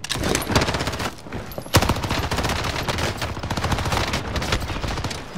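Sustained rapid gunfire in a first-person shooter video game, a dense loud stream of automatic bursts running without a break, close and dominant, with no speech over it.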